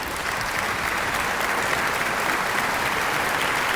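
Sustained applause from a crowd in the video game Remnant 2, a steady dense clapping that holds at an even level throughout, loud and close with no voices over it.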